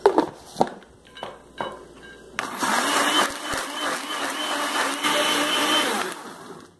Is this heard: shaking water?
no